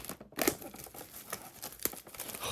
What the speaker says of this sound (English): I still haven't brought an X-Acto knife or scissors to rip the seal with